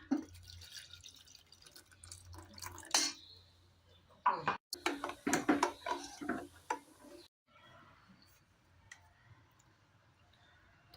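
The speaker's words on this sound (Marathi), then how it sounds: "आता याच्यात पाणी टाकूया।" Water is poured into a pan holding ghee and mango pulp for mango ukadiche modak. It comes in short splashy, dripping bursts with small clicks and quiet gaps between.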